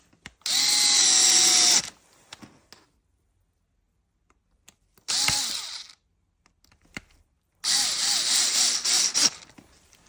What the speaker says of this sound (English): We want to drill our T10s back in.